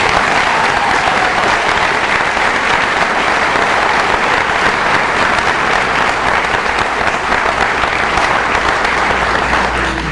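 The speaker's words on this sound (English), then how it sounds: "If we could give all these seniors a round of applause." Indoor crowd at a high school athletic awards ceremony applauding seniors, a dense, steady round of clapping sustained for about ten seconds.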